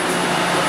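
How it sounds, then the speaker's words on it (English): Powerful fans on top of a 30-ton dual-compressor Thermal Care chiller in a shop, giving a loud, steady, broadband roar of rushing air throughout. "Pretty powerful fans on the top there."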